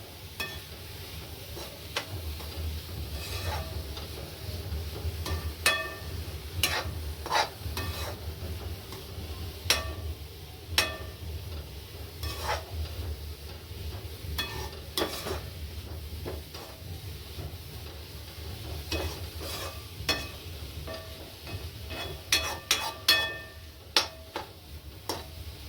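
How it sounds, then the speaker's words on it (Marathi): Vegetable filling for momos is stir-fried in a pan, with a low steady frying hiss under repeated scraping and clicking of a spatula, the strokes irregular and close, growing busier toward the end. "आधी याला चांगलं भाजून घ्यायचं आहे।"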